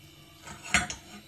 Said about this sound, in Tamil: ஒரு தாளிக்கிற பேன் வச்சுருக்கேன்.